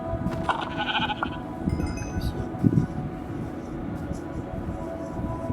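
A Minecraft sheep bleats in the video game, short wavering cries in the first half over a steady background hum, without any spoken voice.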